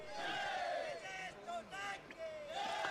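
BJP party workers in Surathkal shout and cheer at a Lok Sabha election result celebration, with raised voices and whoops rising and falling over a crowd murmur, moderately distant.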